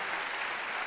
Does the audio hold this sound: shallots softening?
no